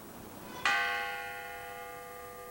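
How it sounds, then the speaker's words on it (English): A single church bell struck once in a remembrance ceremony at an outdoor memorial, a clear bright strike with a long ringing decay, fairly faint and heard alone. "The mayor rang the bell 19 times, 6 for those who died, 13 injured, and he rang it precisely at 10:10."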